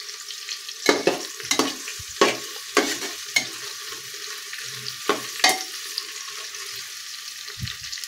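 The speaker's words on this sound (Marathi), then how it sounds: "कांदा गोल्डन ब्राऊन होईपर्यंत परतून घ्यायचा." Vertically sliced onion frying in a pan with cashews for paneer biryani, a soft steady sizzle broken by repeated scraping stirs of a spoon, close and clear with no talking.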